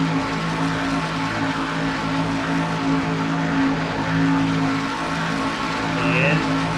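A pack of IROC race cars roaring around Talladega in a racing game: a continuous, loud engine drone with steady harmonic tones throughout, and a race commentator talking over it.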